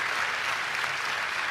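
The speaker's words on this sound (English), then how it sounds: "That deserves an applause, y'all." Audience applause at the 2025 MLB awards, a dense, even wash of many hands clapping, sustained and fairly loud with no pauses.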